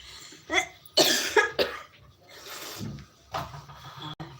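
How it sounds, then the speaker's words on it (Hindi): A person coughs repeatedly, several harsh bursts in quick succession with short breathy gaps, close to the microphone. "बहुत खांसी आ रही है"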